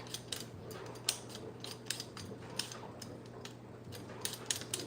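Potatoes being cut with a small handheld cutter in a home kitchen, producing a string of quiet, crisp snipping clicks at an uneven rhythm, close by and without talking.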